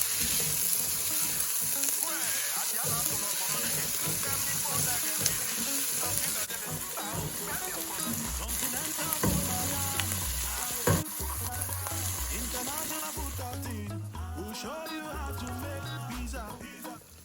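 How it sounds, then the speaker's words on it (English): Loud, continuous sizzling and crackling of onions frying in hot oil, with occasional stirring and clattering, and bits of voice underneath. "add the rest of our onions into our oil, and we're going to be frying it for about 5 minutes"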